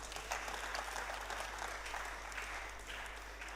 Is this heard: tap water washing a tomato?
no